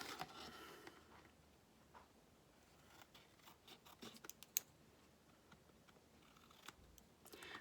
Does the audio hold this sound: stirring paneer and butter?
no